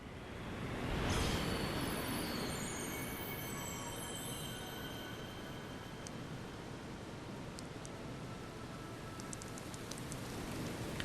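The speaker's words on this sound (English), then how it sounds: "It's raining blood." In the video game Ninja Gaiden II Black, a dense rain of blood pours down in a steady, loud wash, with faint high ringing tones drifting over it and no voices.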